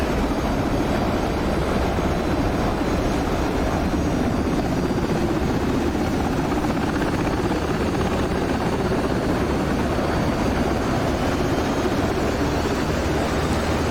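UH-60 helicopter in DCS starting up, a loud steady whine and rotor roar that holds constant throughout, close and alone with no voices.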